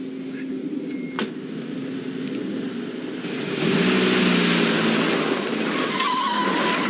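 A car tears past nearby on a street, its engine revving hard with a rising roar and a brief tyre squeal as it speeds off, loud and close with no voices heard.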